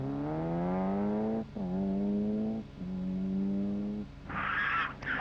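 A 1991 rally car driven by Erwin Weber at the Saarland Rallye revs hard through several gears, each upshift dipping the engine note before it climbs again, loud and close, with a brief burst of gravel or tire noise at the end.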